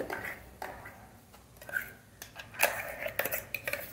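Ground dry spice paste for sukka mutton being added to sautéed masala in a pan, heard as close clinks and scrapes of utensils against the pan with soft stirring, in short irregular bursts.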